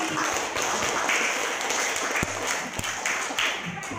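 A class of pupils claps together in a school classroom, a busy spread of hand claps with a few sharper individual slaps standing out, fairly quiet overall and without speech.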